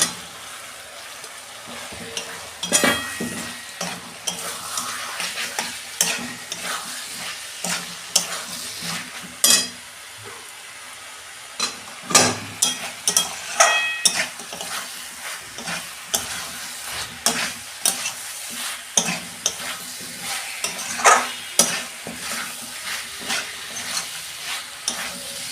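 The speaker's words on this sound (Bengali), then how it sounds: "আমি এঁচোড়টা দিয়ে দিচ্ছি।" Jackfruit being stirred and fried in a pan of cooked-down spiced masala for a spicy jackfruit-prawn dish, a steady close sizzle broken by repeated scraping stirs of the spatula, with no talking.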